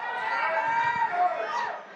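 Steady murmur of a large crowd chattering at a White House reception, many overlapping voices blending into a dense, even wash throughout.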